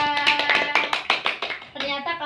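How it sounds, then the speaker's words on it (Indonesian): Children in an elementary school classroom clapping their hands together, a quick run of bright, sharp claps close up, fairly loud, with light talking mixed in. "Tepuk tangan untuk kita."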